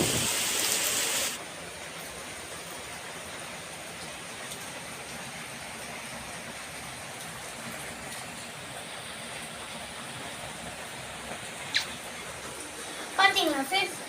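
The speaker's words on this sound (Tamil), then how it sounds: "மழை நிற்கவே இல்லை" Steady rain falls with wind as an even, hissing wash that stays constant throughout. A louder gusty burst opens the passage, and a few sharp knocks and clatters come near the end.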